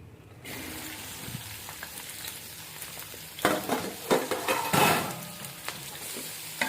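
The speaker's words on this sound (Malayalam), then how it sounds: "ഇപ്പോൾ എണ്ണ ചൂടായിട്ടുണ്ട്. ഇതിലേക്ക് ചെറിയുള്ളി കട്ട് ചെയ്ത് വെച്ചിരുന്നത് ഇടാം." Chopped shallots hit hot oil in a pan for Chicken Chinthamani, starting a steady close sizzle with louder crackling bursts and stirring scrapes partway through.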